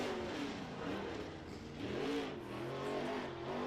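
Race car engine lapping Muskingum County Speedway in Ohio during a brief shakedown run, revving up and easing off in rising and falling surges, moderately distant, with no voices.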